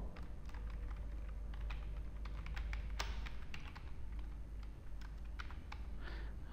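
Computer keyboard typing while entering text in Foxit Reader, a quiet run of irregular clicking keystrokes in a calm room.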